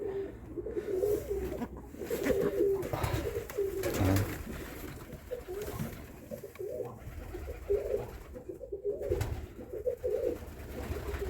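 Short-beaked pigeons in a loft coo softly and repeatedly in low, rolling phrases at close range, with faint rustling and background noise between calls.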